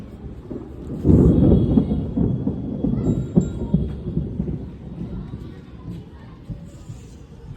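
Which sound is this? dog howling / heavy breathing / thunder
thunder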